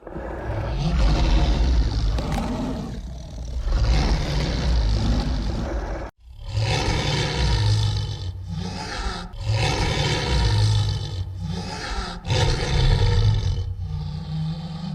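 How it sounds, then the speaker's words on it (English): A heavily edited, elongated lion roar standing in for a dragon's roar: long, loud, rumbling bellows in several sustained bursts, close and dense, with no talking. "The roar he produces seems to be a heavily edited and elongated lion roar"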